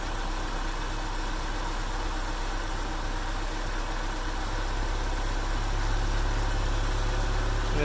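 The engine of a Mazda B2000 pickup idles in a steady, even drone close by while its ignition timing is adjusted. No one speaks over the continuous hum.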